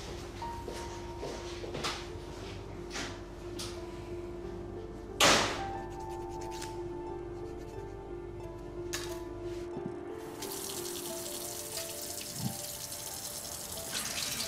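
Water runs steadily from a newly repaired kitchen faucet in a home, a soft continuous stream broken midway by one sharp knock or slam.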